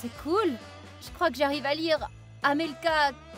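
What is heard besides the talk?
No distinct noise like a dog, phone or traffic.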